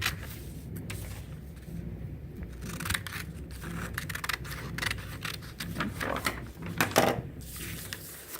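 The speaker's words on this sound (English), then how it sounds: "Now I just cut these diagonal lines off." Scissors snip through a recycled book cover to cut diagonal lines, giving a run of close, irregular crisp cuts and paper rustles with no talking.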